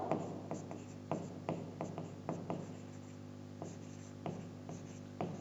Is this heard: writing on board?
yes